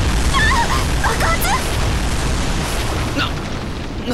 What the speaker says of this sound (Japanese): ああ爆発。